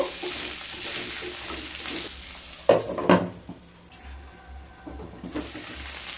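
Pumpkin cooking in a pan for a tangy pickle-spiced vegetarian dish, with a low background sizzle, a few louder scraping stirs and clatters in the middle, then quieter bubbling.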